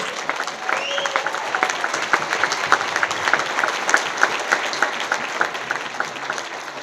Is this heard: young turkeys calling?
no